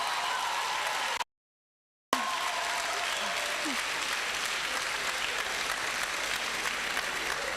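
An audience claps after an inaugural lecture by a plant biochemist professor, a steady, full-room applause with a brief dropout of total silence near the start before the clapping continues evenly.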